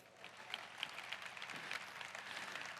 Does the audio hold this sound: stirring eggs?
no